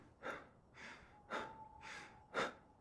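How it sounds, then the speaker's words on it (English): A game character in Road to Vostok breathes heavily, with five evenly spaced, breathy inhales and exhales, close and fairly quiet, and a faint steady tone under the later breaths. "My guy is still breathing. Why is he breathing?"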